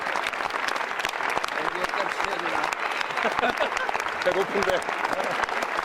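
Standing ovation at a film festival: dense, sustained clapping from a large audience, with a person speaking over the applause.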